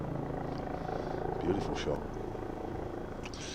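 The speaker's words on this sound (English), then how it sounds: "This helicopter is looking for something, isn't it? It's hovering now." A helicopter hovers over a county cricket ground during Hampshire against Glamorgan, its low, steady rotor drone running under a commentator's talk.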